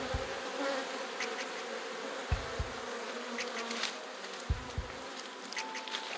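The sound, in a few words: buzzing bees at a new beehive box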